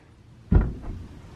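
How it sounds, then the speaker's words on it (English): A bulkhead door on a Westsail 42 sailboat swings open with a single soft wooden knock and a brief rattle, close by and alone in a quiet cabin. "So you go through this bulkhead door here"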